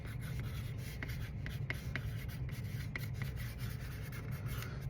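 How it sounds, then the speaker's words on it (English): A pen scratches a name onto the smoother side of a piece of cardboard in short, rubbing strokes with small taps, close and quiet, with no voices. "I'm going to make sure I put my name on my cardboard."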